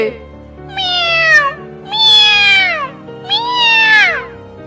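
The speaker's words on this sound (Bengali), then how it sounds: "বিড়ালের ডাক শুনতে পাচ্ছি বনে বিড়াল এলো কোথা থেকে" A cat in a forest meows three times, loud and close, each drawn-out cry rising then falling in pitch with short pauses between.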